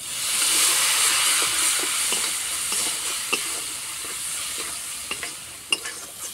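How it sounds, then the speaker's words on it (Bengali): Ground spices for pumpkin kofta curry (cumin, chili, turmeric) fry with a splash of water in a pan, a constant sizzle and hiss with scattered scraping stirs. "মশলা ভালো করে কষিয়ে নিয়েছি"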